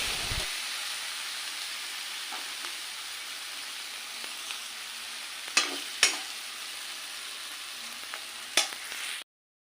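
A banana flower stir-fry from Assamese cooking sizzles steadily but quietly in a pan, with a few sharp clicks of stirring before the sound stops abruptly.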